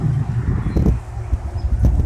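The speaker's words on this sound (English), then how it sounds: "Hasn't been this windy in a long time." Strong gusts of wind roar and buffet the microphone outdoors near a house, a loud, low, continuous rumble that swells and dips with faint rustling.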